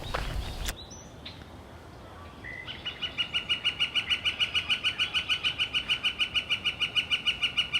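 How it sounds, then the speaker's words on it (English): Small brown creeper calling in woodland, a rapid series of high, thin chirps repeating steadily for several seconds after a brief sharp sound at the start, clear and fairly near. "It's called a brown creeper"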